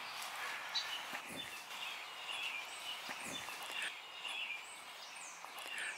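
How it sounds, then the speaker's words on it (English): Birds chirp and call in a shaded garden with hydrangeas and a large tree, light scattered calls continuing faintly through steady outdoor ambience, with a few soft footstep-like thumps. "listen to the birds"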